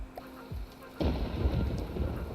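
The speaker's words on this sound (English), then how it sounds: "I do not want to be out in the middle of the rain." Rain and thunder in a video game about retrofitting a Magpie jet fighter: a quiet low rumble, then from about one second a loud, steady rush of heavy rain with deep rolling thunder underneath, no talking.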